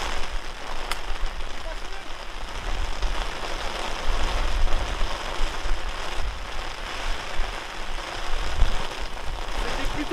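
Rain falls steadily on the Omaha Beach Golf Club course, a dense, close hiss of drops that stays level throughout with a faint voice underneath.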